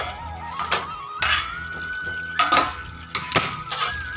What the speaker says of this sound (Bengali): ঢাকাটা খুলে দেব।